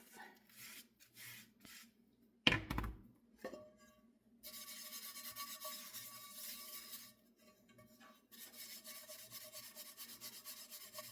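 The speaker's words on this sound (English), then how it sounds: "I'm going to break out the big guns, scrub paste, and a little scrubby sponge" A small scrubby sponge with scrub paste rubs across stainless steel cookware, a close, steady rasping scour in long continuous strokes with short pauses between.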